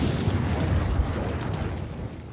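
Layered explosion effect built for Westworld, a dense, loud rumbling fireball-like blast that sustains with a heavy low-end roar across its length and eases slightly toward the end, with no voices.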